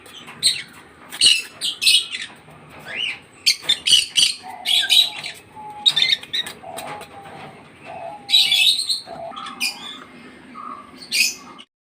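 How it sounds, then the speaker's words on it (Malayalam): Birds chirp and squawk in scattered bursts while a low dove-like cooing runs beneath, a lively mix of calls at moderate distance. "അവരലയ്ക്കുന്ന ശബ്ദം കേൾക്കുന്നു കേട്ടോ"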